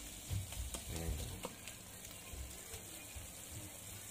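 Black bean sauce for tochong bangus, made with tofu and fermented black beans, bubbles and sizzles softly in a pan, with a few louder stirring scrapes early on and a quiet, steady simmer after.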